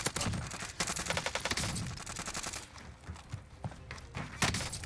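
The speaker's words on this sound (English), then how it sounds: "Taking direct fire." Rapid bursts of gunfire in Call of Duty: Warzone, likely from a buffed Uzi, crackling in quick volleys at moderate volume with thumps and footsteps mixed in.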